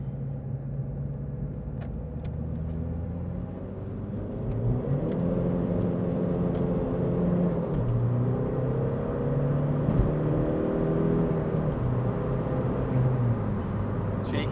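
A VW Polo with a tuned 1.9 TDI PD130 diesel engine pulls hard out of a roundabout in second gear, its engine note rising in a steady droning climb, heard from inside the car.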